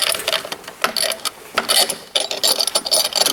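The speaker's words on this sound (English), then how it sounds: "with the 13 wrench, we'll loosen up our tightening bolt jam nut" A 13 wrench ratchets against a snowmobile track tension jam nut, giving quick, close clicking bursts in short uneven runs as the handle swings back and forth.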